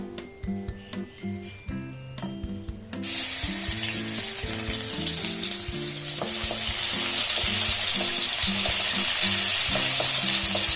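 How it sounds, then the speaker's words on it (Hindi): Garlic sizzles in hot oil in a pan, a bright crackling hiss that swells louder midway, with tonal music playing underneath throughout. "लहसुन के 2-4 मिनट भूज लेब।"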